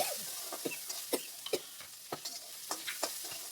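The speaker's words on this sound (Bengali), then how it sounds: "লবণটাকে দিয়েও আবার ভালো করে নেড়ে চেড়ে ভেজে নিলাম" Onions with a pinch of salt sizzle in a pan while a spatula stirs them, giving a steady hiss broken by repeated sharp scraping strokes, close and fairly quiet.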